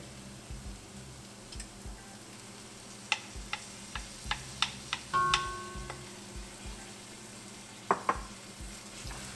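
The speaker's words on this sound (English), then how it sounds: "Now we'll add the tomato puree" Tomato puree going into a pan of sizzling onions, ginger garlic paste and spices, a low frying hiss under scattered clicks and taps of a spoon against the pan, with one brief thicker splash.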